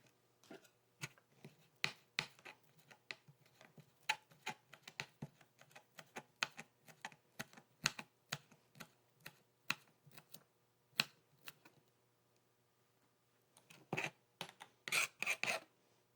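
Knife chopping fresh parsley on a board in a home kitchen, a long run of crisp, fairly quiet taps in an uneven rhythm with short pauses, ending in a quick burst of faster chops.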